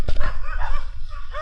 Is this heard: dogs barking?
yes